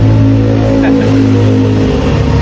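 An Easyride 150 fi motorcycle engine revs loudly up close, a steady powerful drone with a brief rise in pitch partway through, filling the whole clip.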